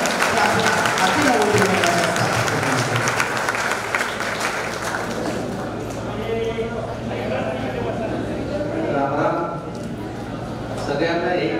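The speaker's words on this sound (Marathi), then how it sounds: "आपल्याला मार्गदर्शन करण्यासाठी टाळ्या अशा झाल्या पाहिजे" An audience claps steadily throughout, a dense wash of hands under scattered voices, with talk rising through the middle.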